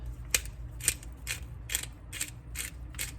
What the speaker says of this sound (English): And I have some Italian seasoning. And I'm going to grind a little bit.